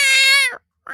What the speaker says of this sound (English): if you live next door to Paige, there are cat samples being played round the clock.